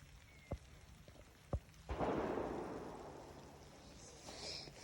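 Thunder in rainy weather on a pike fishing trip: two sharp thumps, then a loud rolling rumble that swells and slowly fades under steady rain.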